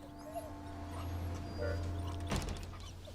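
A dog whimpers softly in a quiet indoor scene, a few faint high whines over low background hum, with a brief clatter near the end.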